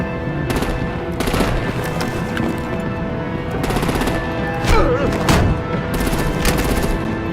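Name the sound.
gunfire in Batman: The Enemy Within video game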